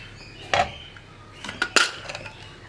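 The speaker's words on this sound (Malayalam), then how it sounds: "ഇപ്പോൾ നമ്മുടെ കുക്കറിൻ്റെ പ്രഷർ കംപ്ലീറ്റ് പോയിട്ടുണ്ട്. നമുക്ക് തുറക്കാം." A pressure cooker lid being opened after the pressure has fully released, giving a few sharp metallic clanks and clinks at close range, with quiet gaps between them and no speech.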